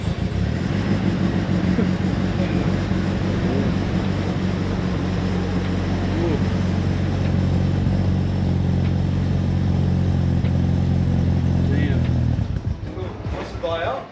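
Nissan S15 engine running on E85, a loud, steady close rumble with a low droning tone held for about twelve seconds before dropping away.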